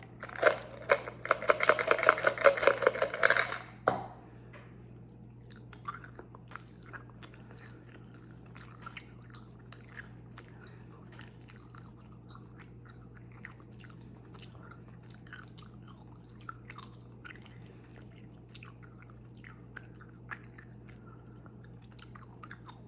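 Gum chewed close to the microphone in a quiet ASMR setting, with a dense burst of wet, sticky chewing for the first few seconds, then near silence with only faint scattered mouth clicks.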